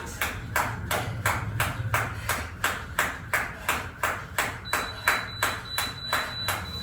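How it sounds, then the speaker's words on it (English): A workout timer beeps in a steady, even rhythm, about two pulses per second, over low background noise, with a thin high tone joining partway through. "My timer begin to beep."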